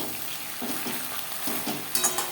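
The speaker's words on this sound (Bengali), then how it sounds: "ভেন্ডি হালকা করে ভেজে নেব।" Okra (bhindi) coated with turmeric and salt fries lightly in a pan, giving a soft steady sizzle with a few stirring scrapes and a brief clink near the end, with no voices.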